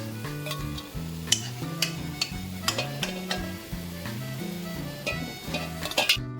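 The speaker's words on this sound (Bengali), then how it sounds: "এইভাবে আমি অন্যান্য বড়াগুলোকেও ভেজে নিচ্ছি" Palm fruit fritters fry in hot oil with a steady sizzle, while utensils clink and scrape against the pan at irregular intervals. A tonal musical background plays underneath, and no one speaks.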